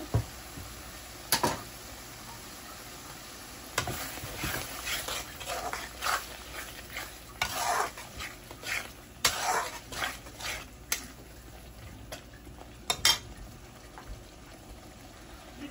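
Duck meat curry cooking in a pan, with bursts of spatter and scraping from stirring over a low, steady simmer, the sounds coming close and intermittent.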